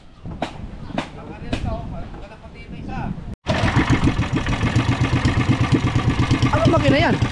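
People talk briefly, then a motorcycle engine starts up loudly and settles into a steady, throbbing idle close by.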